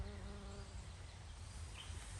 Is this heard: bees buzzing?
yes